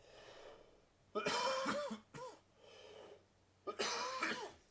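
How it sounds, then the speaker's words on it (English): One person coughs in three harsh, raspy bursts, close and fairly loud, with short quiet pauses between them. "You're making me cough, sir."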